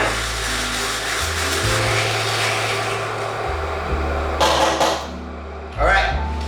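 A cheap P1 coffee grinder grinding beans for espresso, a steady whirring drone with shifting pitch that stays loud throughout, with a voice talking over it.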